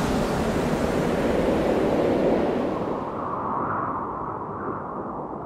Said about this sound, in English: In this place, the only sound will be that of wind and sea.